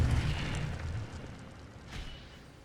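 A fire spell is cast in the Hogwarts Legacy video game, giving a loud, rumbling whoosh that starts heavy, then fades into a lower, steady burning roar, with a brief flare near the end and no talking.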